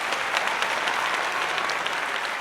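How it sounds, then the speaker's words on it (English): Dense, steady applause from a live audience fills the space continuously, with many overlapping claps forming an even wash of sound and no voices rising above it. "I want you to give a round of applause for yourselves"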